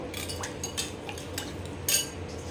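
A spoon stirs honey lemon chicken sauce in a pan, light scraping and a few sharp metallic clinks over a low hiss, close and brief, with no voices.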